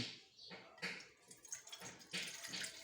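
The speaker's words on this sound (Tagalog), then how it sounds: "Lagyan natin ng tubig." Water splashes and pours into an electric kettle in a few uneven bursts, close by, with small drips between pours.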